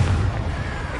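A Confringo fire-blast spell from the Hogwarts Legacy video game: a dense, roaring burst with a deep thump at the start that settles into a loud, sustained rush over the game's background sound.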